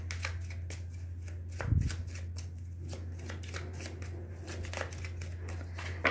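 A tarot card deck shuffled in steady, quiet riffling strokes through a low background hum, with no voices.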